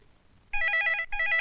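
A telephone bell rings in two loud, bright bursts of rapid trilling, separated by a brief gap, in a dramatic Hindi film scene.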